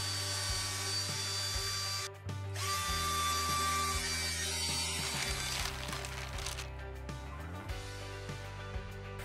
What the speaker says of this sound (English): now you can see I'm going to be drilling in, and you can see that resistance where it hits the beam